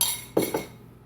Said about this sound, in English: Mixing it together.